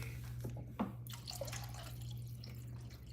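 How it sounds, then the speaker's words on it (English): A small amount of water trickles into a pot of red beans simmering in vegetable broth, heard as a faint, brief splash and drip over a steady low kitchen hum. "Okay, then I'm gonna add just a little bit of water"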